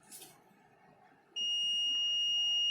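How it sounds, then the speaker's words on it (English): A multimeter in continuity mode on a breadboard gives a steady, piercing electronic beep that starts abruptly partway through and holds continuously to the end after a quiet stretch of faint background noise. "if these pins are short, then it will beep this multimeter"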